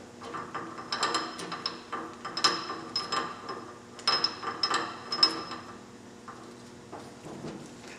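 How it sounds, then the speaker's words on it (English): A ratchet clicks in repeated close bursts as a bolt is screwed into the dampening rod of a Victory motorcycle fork, mixed with light metallic taps and pauses between strokes. "hold the top of the dampening rod up where that spring was and just screw your bolt in."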